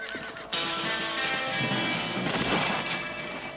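A horse whinnies loudly and its hooves clop in Red Dead Redemption, the neigh rising over a short burst of galloping and gear noise.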